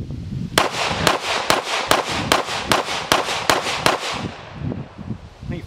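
Rapid fire from a Shadow Systems CR920XP compensated pistol: about ten loud, sharp shots in quick, even succession, then a moment of quiet ambience.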